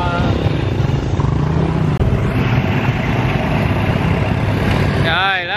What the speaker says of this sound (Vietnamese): xe máy lên, rồi cả nhà mình lên sau